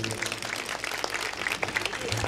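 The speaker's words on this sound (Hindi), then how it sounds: "वास्तव में शशि भाई की एक बार जोरदार तालियां बजाइए" Applause from an audience at a Shyam bhajan performance, honoring the musician, a dense steady patter of many hands filling the space with some voices mixed in.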